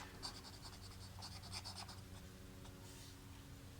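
Pen or marker writing out a math exercise by hand, a series of short scratchy strokes in quick bursts, close and quiet with a faint steady hum behind.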